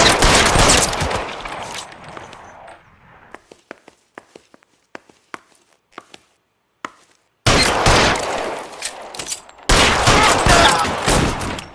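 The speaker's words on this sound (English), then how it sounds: "Shots fired." Gunfire in the video game L.A. Noire: loud bursts of shooting open and close the passage, with scattered single sharp shots and footsteps through a quieter middle stretch.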